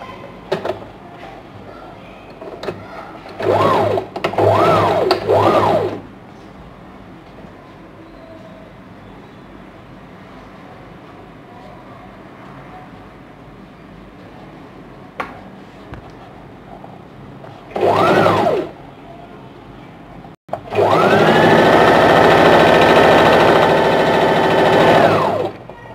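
A sewing machine stitches a princess cut blouse close by, running in short buzzing bursts separated by quiet pauses, then a longer continuous run at the end, with no voices over it.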